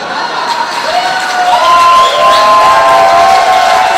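An audience at a TEDx talk in Yoff applauds and cheers loudly, with whoops and shouts rising over continuous clapping that swells and holds throughout.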